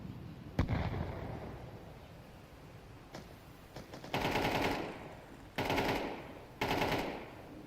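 Video game combat with gunfire and grenade blasts: a sharp shot near the start, then three loud bursts of rapid automatic fire or explosions spaced about a second apart, standing well above a quieter background.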